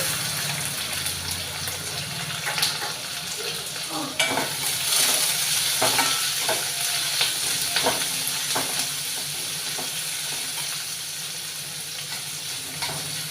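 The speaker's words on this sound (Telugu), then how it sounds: "నెక్స్ట్ మనం తరిగి పెట్టి ఉంచుకున్న ఉల్లిపాయ ముక్కల్ని ఇందులో వేసుకోవాలి" Chopped onion pieces sizzle in a pan while a bean and tomato curry is being cooked, with a steady frying hiss broken by several sharp scraping stirs, close and fairly quiet.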